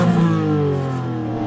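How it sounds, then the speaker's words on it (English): BMW M2 engine revving hard through its standard exhaust in normal sound mode, a loud, steady, close-up mechanical roar with rich low harmonics that sustains throughout without speech. "The standard fit exhaust on this car is pretty fruity, and it has a switchable sound mode."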